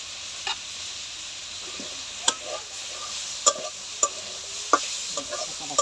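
Cauliflower and onion stalks fry in a pan with a soft, steady sizzle while a spatula clinks and scrapes against the metal every second or so, close-up with no talking.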